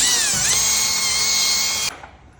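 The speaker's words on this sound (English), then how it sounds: "And then we are going to drill the other side." A power drill runs steadily at high speed for about two seconds while fastening the arm of a Maverick EZ-7000 automatic door opener during installation, then stops abruptly, leaving a brief fading tail.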